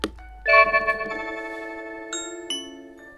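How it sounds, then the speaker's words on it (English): An Echo Show 8 sounds a bright melodic chime in response to a Blink video doorbell press, with a few clear ringing notes that sustain and fade in an otherwise quiet room. "Someone is at the Blink doorbell."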